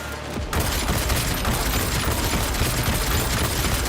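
Sustained automated turret gunfire in Cyberpunk 2077, a dense, continuous barrage that starts abruptly after a brief quiet moment and stays loud and steady throughout.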